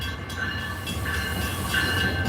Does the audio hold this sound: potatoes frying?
no